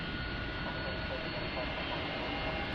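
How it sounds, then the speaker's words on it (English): Old airliner jet engines spool up at DFW airport at night, a steady, dense, close roar that holds evenly without a break. "Listen to those old engines like wind up."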